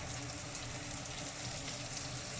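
Onion sautés in hot oil with curry leaves, green chilli and garlic, making a soft, even hiss and faint steady sizzle, close by, with no talking.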